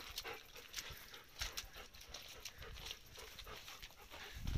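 Quick, rhythmic panting from a nearby dog, soft and breathy, repeating steadily with faint background noise.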